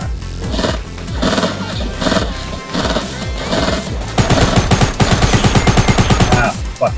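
Rapid gunfire in a Fortnite match, repeated shots in bursts and then a fast continuous volley, loud and close, with game sounds throughout.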